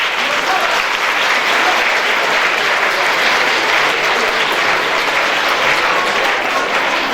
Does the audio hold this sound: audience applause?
yes